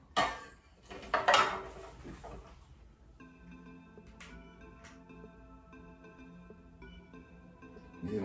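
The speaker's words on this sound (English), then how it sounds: "stir." A candle wax mixture stirred in a container gives a short run of close, bright clinks and scrapes in the first couple of seconds, then fades to a quiet, softer background.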